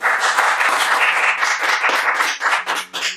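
Audience applause, a dense run of clapping that stays steady and loud for most of the stretch, then thins into a few uneven bursts near the end.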